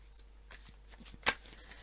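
Tarot cards are shuffled and laid out, giving a soft, close riffle of cards followed by a sharper slap as one card is set down.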